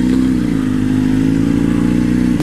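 A Ducati 959 motorcycle engine runs close and loud with a steady, throbbing mid-pitched drone, holding an even rhythm before a brief change right at the end.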